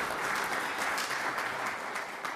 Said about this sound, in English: You guys can clap for Manny.